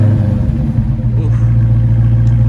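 The V8 engine of a Dodge Daytona Hellcat, already warm, idles with a deep, loud, close rumble and a brief rising rev partway through.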